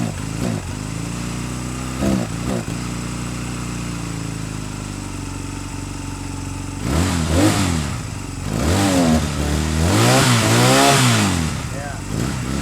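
A Honda Rebel 250 motorcycle engine idling near, then revved with the throttle in several rising and falling pulls that sag slightly. Voices talk over the engine.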